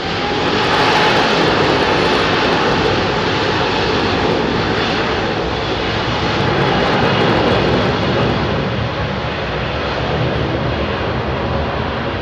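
Kuwait Airways Airbus A330 jet departing Heathrow, a loud continuous roar of engines at takeoff power holding steady throughout, heard from fairly close by.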